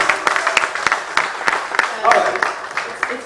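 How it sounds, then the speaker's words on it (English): An audience claps for Katrina Kaif at a live event with A.R. Rahman: scattered, sharp, irregular claps, fairly close, with voices mixed in. "Let's give her a big round of applause."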